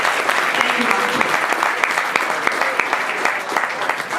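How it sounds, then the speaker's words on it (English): A panel audience at a Blues Foundation blues and race event applauds loudly and steadily for the moderator, dense clapping sustained throughout without pause. "Please give her a round of applause"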